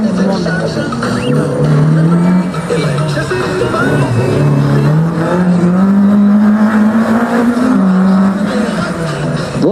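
A Fiat X1/9 hardtop speedster, built 1972–1989, runs a slalom at the Val d'Hyrome event. Its engine drones loud and steady throughout, pitch rising and falling with each shift and turn. A commentator talks over it.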